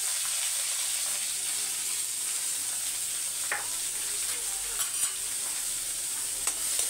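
Onion, garlic, dried chili and curry leaves frying in oil with mustard seeds, a continuous close sizzle broken by a few sharp spatula scrapes, no voices.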